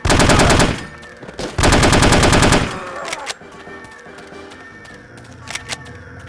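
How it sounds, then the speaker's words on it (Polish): Rapid automatic gunfire in The Operative: No One Lives Forever, a shooter game, with two loud bursts of rattling shots, then quieter scattered shots and ambient game sounds. "Ktoś tu strzela do nas"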